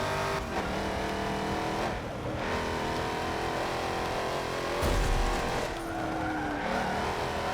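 Dodge Challenger racing in Forza Motorsport 7, a steady loud engine drone with tire squeal and skidding throughout, a sharp impact-like burst midway, no talk.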